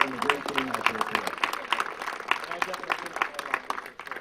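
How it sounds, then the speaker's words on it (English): Scattered clapping from a small crowd greets a youth baseball team after a game, sharp individual claps rising and falling while someone talks over them. "let's give them a round of applause for playing a great game out there today"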